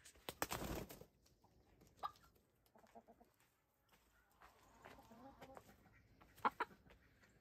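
Hens on a backyard lawn give a few scattered clucks and short calls, fairly faint and separated by quiet gaps, with a louder burst of rustling or flapping near the start.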